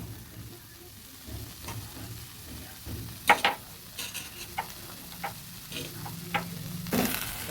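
Ghee being stirred into a vegetarian Bengali cabbage curry (niramish bandhakopi) frying in a pan: a low, steady sizzle broken by several soft scrapes and clinks of the spoon, fairly quiet and close, with no talking.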